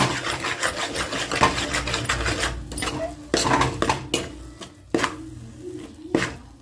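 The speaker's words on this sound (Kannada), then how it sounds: "ಕೈ ಬಿಡದೆ ಕೈ ಆಡಿಸ್ತಾ ಇರಬೇಕು." A spoon working coconut barfi mixture in a pan, scraping and clinking against the metal in steady repeated strokes, close and fairly loud, with a few sharper knocks.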